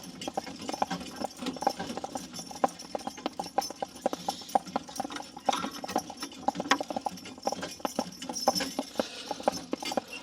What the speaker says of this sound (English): We got the brakes on right here, and these horses are holding back some